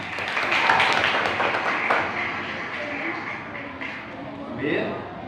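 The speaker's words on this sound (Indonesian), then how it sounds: "Tepuk tangan buat Puspa" Classmates in a school classroom clap for a student named Puspa, a burst of hand claps mixed with a teacher's voice speaking over them, fading into continued talk.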